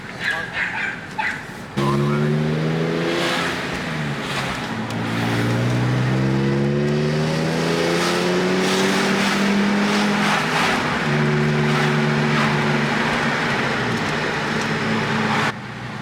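A BMW E46 M3 with an SMG transmission revs and drops through gears, engine tones stepping and sliding up and down in pitch with a brief blip, heard close and loud from inside the car.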